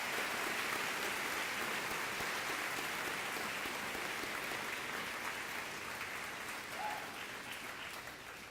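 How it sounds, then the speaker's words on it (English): Steady, dense applause from a large high school graduation crowd, a broad continuous wash of clapping that holds for several seconds and eases slightly near the end. "Let's take a moment to give them all a round of applause."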